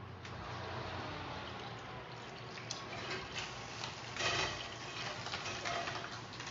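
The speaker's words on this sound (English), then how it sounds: "So I've got the butter bubbling here" Butter bubbling and sizzling in a frying pan while a vegetable frittata is cooked, a steady soft crackle with small pops and a brief louder hiss partway through, fairly faint and with no talking.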